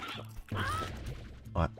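Chickens in the video game Slime Rancher give short squawking, quacking calls, close and fairly loud, in a few brief bursts.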